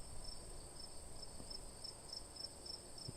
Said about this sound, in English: Yeah, it's crickets.